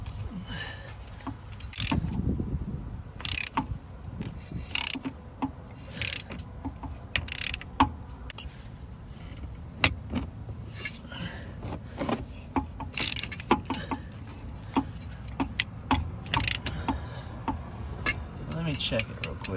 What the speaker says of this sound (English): So, I guess I'll try a ratchet.